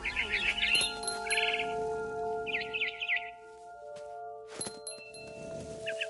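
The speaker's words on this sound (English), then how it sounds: "Then I heard chirping outside my window. It was a barn swallow going back to her nest." A barn swallow chirps in What Remains of Edith Finch, delivering short bursts of bright twittering calls spread across the clip, with clinking and knocking sounds and a low tonal hum in between.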